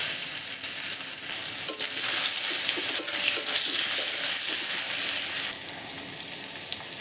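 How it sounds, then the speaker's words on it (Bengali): Chopped onion with bay leaf and cumin sizzles in hot oil left from frying baim fish, a steady close crackle with stirring scrapes for several seconds before the sizzle eases slightly near the end. "দিয়ে দিচ্ছি পেঁয়াজ কুচি"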